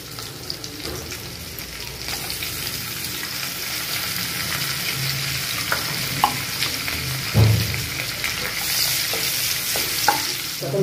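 Steady sizzling and crackling of onion and spices frying in butter in a pan, with occasional stirring clatter, close and continuous throughout.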